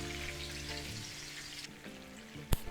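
Kacha keema kebab fries in very hot oil, a close, steady sizzle with a sharp splash or pop near the end and no talking.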